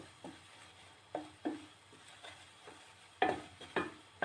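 Flour roasting for halva in a pan, stirred constantly, giving a faint dry sizzle punctuated by irregular scraping strokes of the spoon, growing louder near the end, close with no voices.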